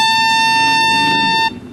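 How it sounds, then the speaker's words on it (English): A loud, steady air horn blast sounds alone for about a second and a half, then cuts off abruptly. "with this trusty air horn."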